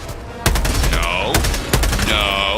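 A mortar sentry fires in a video game, several sharp booming shots with descending whistling tones between them, loud and close, amid continuous game noise.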